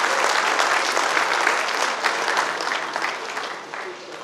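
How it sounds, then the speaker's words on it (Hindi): An audience claps loudly at a caterers' association event in Goa as two new vice presidents are announced, dense sustained applause that gradually fades. "आज हमने दो नए वाइस प्रेसिडेंट सिलेक्ट किए हैं जोरदार तालियों के साथ"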